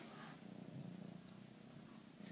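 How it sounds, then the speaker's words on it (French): A cat purrs steadily and softly up close, a continuous low rumbling purr with no voices over it. "Elle ronronne tout le temps en fait."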